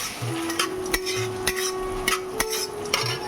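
Rohu fish pieces frying in oil in a large kadai, with a steady soft sizzle under repeated scraping stirs and light metal clinks of a spatula against the pan.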